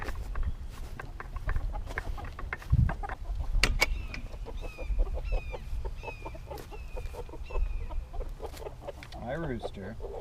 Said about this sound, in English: Hi, rooster.